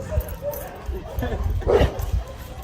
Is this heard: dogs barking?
yes